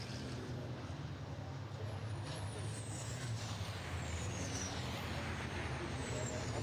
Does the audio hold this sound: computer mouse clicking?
no